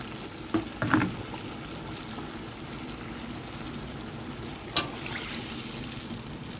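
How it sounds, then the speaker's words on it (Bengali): Water is poured into fried spice paste in a pan while cooking a Bengali bata fish curry, making brief splashing bursts near the start and a sharp splash later over a low sizzling background, with no talking. "মশলাটা আমার কষানো হয়ে গেছে এবার আমি জল দিয়ে দিচ্ছি"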